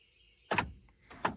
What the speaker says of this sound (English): press and hold this door lock button for about 5 seconds. You'll hear it click.